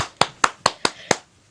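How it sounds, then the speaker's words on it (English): Five crisp hand claps in a quick, even rhythm, close and loud, with no other sound around them. "Max said as she clapped her hands in excitement"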